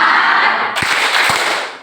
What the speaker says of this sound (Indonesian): Sekali lagi tepuk I love you 1, 2,